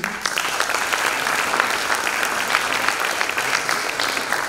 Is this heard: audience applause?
yes